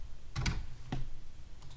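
Typing on a computer keyboard, a few quiet, close keystroke clicks spaced out irregularly in a short burst, no voice.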